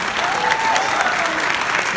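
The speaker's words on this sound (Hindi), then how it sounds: "एक बार जबरदस्त तालियां।" Audience applause at a film festival, a brief burst of dense clapping heard close and loud, with a faint voice underneath.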